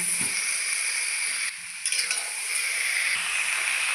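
Fried jackfruit and potato are stirred into a spice masala in a pan, under a constant bright sizzle with a brief dip and a few faint scraping clinks of the spoon, nearby.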